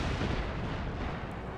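Naval cannon fire from a ship battle in Empire: Total War, a steady loud rumbling barrage of booms merging into one continuous roar with no talk over it.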